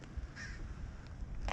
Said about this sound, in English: Got a bunch of crows. I can hear them.